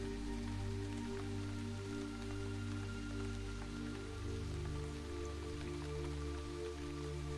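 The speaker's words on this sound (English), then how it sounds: "feeling the rain wash over you" Rain falls on a field in a steady, even patter, layered over a low sustained musical drone, continuous and without voices.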